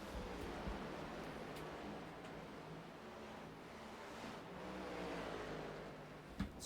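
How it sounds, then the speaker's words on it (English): A race car engine in a sim racing video game, heard as a continuous, fairly faint revving drone with a slight surge near the end, without speech. "you hear him punching that clutch"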